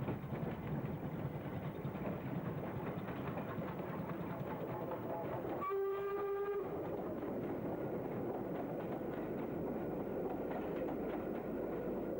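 A train rumbles steadily in the distance near Castleford junction, a low continuous roar with a brief whistle-like tone sounding midway.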